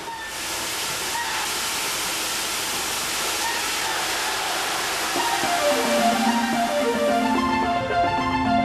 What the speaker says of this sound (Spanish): El agua, según sale de las galerías, se deja correr libremente por el fondo de los barrancos